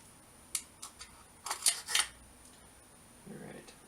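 A rifle bolt drops into the receiver of a Jard J48, giving a few sharp metallic clicks and clacks close up in a quiet room, followed by a softer shuffle.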